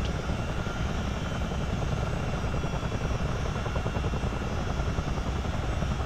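A CH-47 Chinook helicopter flying in a flight video game, its dense, steady rotor and engine roar loud and unbroken throughout.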